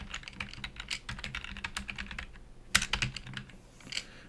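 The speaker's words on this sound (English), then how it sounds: "So I'll just start off by typing something simple and just make sure it works." Keys clatter steadily on a computer keyboard in quick, irregular taps, with one sharper keystroke partway through, all close and fairly quiet with no talking.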